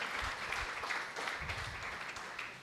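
A church congregation applauds steadily and fairly softly, a dense, even patter of many hands clapping together with no voices on top.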